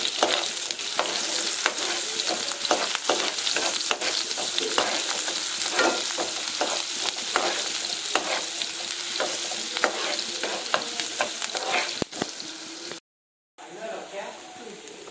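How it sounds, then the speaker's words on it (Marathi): Chopped onion frying in oil in a pan, a dense continuous sizzle with crackling pops and stirring throughout, a voice faintly beneath it, then a sudden brief cut near the end. "आता त्याच्यात आपण कांदा टाकणार."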